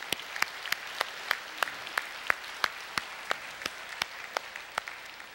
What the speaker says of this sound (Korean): 우리 수고한 분들을 위해 한번 우리 힘있게 우리 박수로 한번 격려합시다